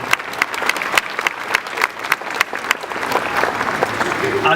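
A SeaWorld audience claps for an Amur leopard show, with sharp, distinct claps over a continuous crowd roar that grows fuller toward the end, and a voice faintly audible underneath.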